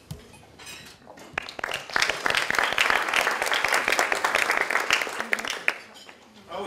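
Applause for an alumni chapter president and Morgan Stanley financial advisor introduced at a Trinity University talk, a dense wash of clapping that builds quickly and holds steady for several seconds before thinning.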